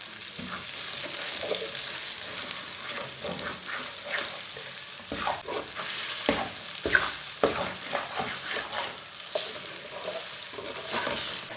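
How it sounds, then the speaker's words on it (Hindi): Makhandi halwa roasts over medium heat in a pan, a soft sizzle broken by repeated scraping spoon strokes that grow busier toward the middle, close and fairly quiet with no talk. "इसे 5 मिनट तक ऐसे ही चम्मच चलाते हुए भून लेंगे।"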